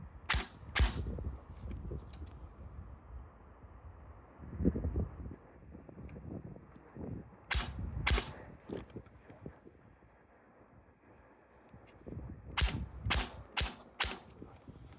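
A Well Pro WE10 DSG airsoft SMG fires outdoors, its sharp, loud snapping shots coming in short clusters separated by pauses, with light wind rustle filling the gaps.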